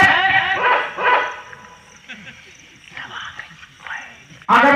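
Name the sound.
dog barking, likely imitated by a performer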